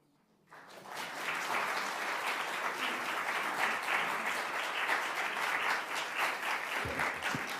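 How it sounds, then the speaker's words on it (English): A large audience breaks into sustained applause, dense clapping that starts abruptly and continues evenly at full strength. "that's a beautiful round of applause"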